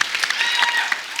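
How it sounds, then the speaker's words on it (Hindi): Applause from a studio audience at a television comedy show, a dense spread of clapping with a few sharper peaks, close and fairly loud throughout a short burst. "जोरदार ताली"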